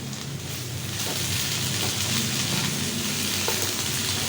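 Okra (bhindi) frying in a pan for bhindi masala gives a steady, close, even sizzle that holds without a break, with no voices over it.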